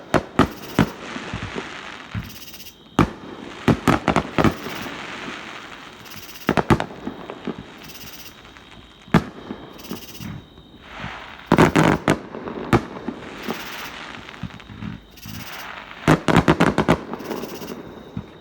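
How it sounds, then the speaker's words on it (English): Fireworks burst near Travis Lake on July 4th in irregular volleys of sharp bangs and crackles, some close together and some spaced out, loud against a softer background rumble. "Wow, very nice fireworks by Travis Lake."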